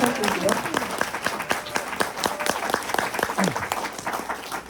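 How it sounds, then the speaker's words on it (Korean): An audience bursts into sustained applause during a talk: dense, steady clapping from many hands, loud and close, holding without a break for the whole stretch. "박수 부탁드릴게요"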